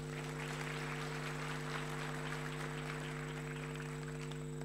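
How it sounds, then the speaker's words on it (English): A graduation ceremony audience applauding academics and support staff, a faint, even wash of clapping from a distant hall with a steady electrical hum underneath. "Can we give them a huge applause as well, please?"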